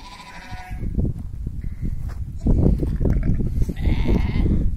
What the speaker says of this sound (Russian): Вот, друзья, покажу типичный экземпляр горной матки.